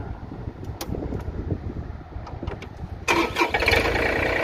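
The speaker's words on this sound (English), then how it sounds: "so you didn't have to hear the tractor running, but I'll go ahead and start it up now" Low engine rumble and clatter under a fan-like hum, then a John Deere 3025E tractor engine cranks and starts, running louder and rougher to the end.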